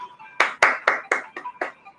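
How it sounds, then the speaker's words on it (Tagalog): Six or seven sharp hand claps ring out at a steady, moderate pace in a classroom-style setting, close and distinct, with a faint voice behind them. "bigyan natin ng palakpak si Mark."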